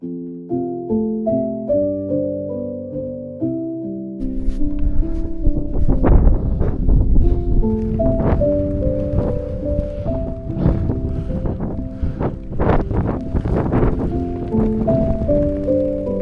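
Strong gusting wind sweeps along the Everest Base Camp trail, a broad roaring rush that surges and swells in uneven waves after a short opening of melodic background music, which keeps playing beneath the gusts.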